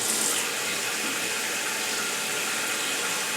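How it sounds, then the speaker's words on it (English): Water rushes steadily into a toilet tank through a newly installed Fluidmaster fill valve, a constant bright hiss that stays even from start to finish, close to the microphone with no talking. "So we're going to go ahead and turn the water on."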